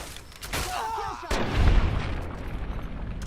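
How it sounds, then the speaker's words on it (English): Gunfire in the video game Fallout, Tale of Two Wastelands, a couple of sharp booming shots with a heavy low rumble and a noisy tail, loud and close. "That was like 2 shots, 3 shots in a row."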